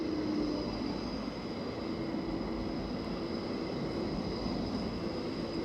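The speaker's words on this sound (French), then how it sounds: "Oh, regardez, il y a le tramway qui passe là aussi." A tram passes through a city street as a steady, rumbling rolling noise with a faint whine, holding at moderate loudness throughout without any talking.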